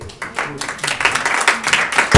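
Applause from the audience at an Ojai city council meeting, a short burst of scattered clapping in a meeting room, close and fairly loud, with a few voices mixed in.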